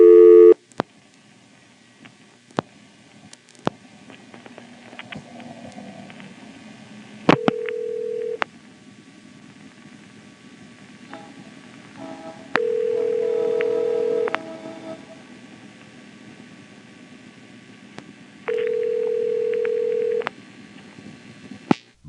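Call-progress tones from a 1977 NX1-E telephone exchange in Vanceboro, North Carolina: dial clicks and pulses, then three separate steady ringback tone bursts of one to two seconds each, with soft line hiss between them.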